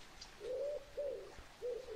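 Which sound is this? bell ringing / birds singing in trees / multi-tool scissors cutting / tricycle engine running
birds singing in trees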